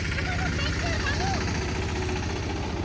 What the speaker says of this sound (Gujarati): જા ટ્રેક્ટર આવ્યું